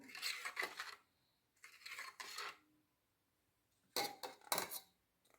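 A spoon stirs turmeric pickle after lemon juice goes in, giving several bursts of scraping and clinking against the bowl separated by short pauses, close and fairly quiet.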